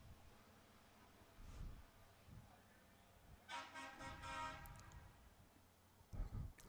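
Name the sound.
truck horn honking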